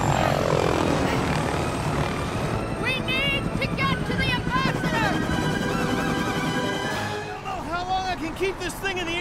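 Helicopter flying in the Lego The Incredibles video game, a loud continuous rotor and engine drone throughout, with voices speaking over it and game music and effects layered in.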